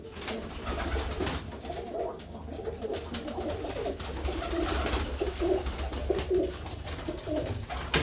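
Loft pigeons coo in low, repeated throaty phrases close by, with soft fluttering and rustling from the birds over a steady background.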